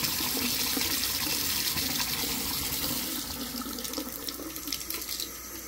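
Cold water gushes hard and steady from the drain while a water heater is flushed, a loud continuous rushing splash that eases slightly partway through.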